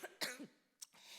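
A person coughs a couple of times up close, with a harsh throaty clearing followed by a breathy exhale, fairly quiet.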